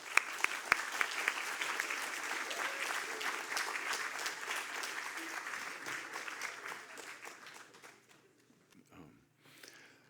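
A crowd gives sustained applause welcoming Mohamed Zakariya, a dense, even clapping that holds steady for several seconds before thinning out and fading near the end.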